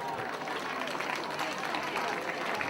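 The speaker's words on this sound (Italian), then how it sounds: "Un applauso alle cicerchie." Audience applause at a live outdoor concert in Bagnoli del Trigno, Italy, with a dense, steady clapping crowd mixed with voices and cheering.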